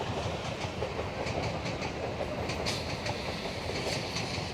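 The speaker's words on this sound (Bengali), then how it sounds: "এই সূর্যমুখী ফুলের ক্ষেতের মাঝখান দিয়ে বেরিয়ে যাচ্ছে ট্রেন" A train running past a sunflower field near Kolkata, its wheels making a continuous rumble with repeated clickety-clack beats, heard at moderate distance and fairly quiet, with no voices.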